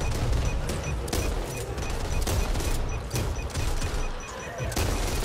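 Shotgun blasts in the zombie shooter game Back 4 Blood, set in a dense, nonstop barrage of gunfire and impacts with sharp loud shots at irregular intervals over about five seconds.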